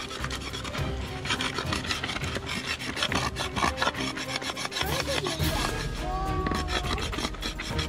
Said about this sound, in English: I need to shave down this bamboo here.